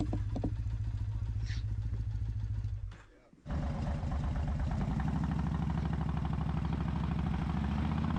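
A 1969 BSA A75 Rocket 3 triple motorcycle idles nearby in a vintage British motorcycle garage, with a steady low throb that briefly dips, then returns with a louder, clattery rumble.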